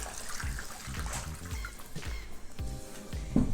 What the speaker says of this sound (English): So we are gonna add our chicken broth.